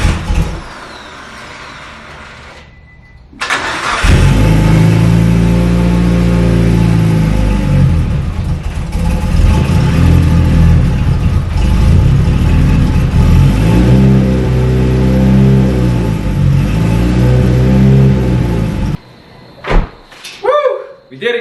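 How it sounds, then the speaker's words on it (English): A Mitsubishi Evo 8 tuned to about 600 whp fires up for the first time on a new fuel system: brief cranking, then a loud rumbling idle with a few throttle blips before it cuts off, followed by clunks. "First start on the new fuel system in the Evo 8"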